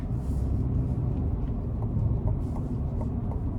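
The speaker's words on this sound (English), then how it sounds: "starting the test drive in this 1500 Silverado" A Chevy Silverado 1500 LTZ pickup with a 5.3 V8 drives along, giving a steady low rumble of engine and road noise heard from inside the cab, even in level throughout.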